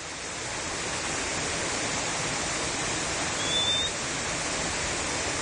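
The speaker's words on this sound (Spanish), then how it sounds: "La cascada de San Carlos." San Carlos waterfall roaring as a steady, dense wash of falling water, loud and close throughout with no voices.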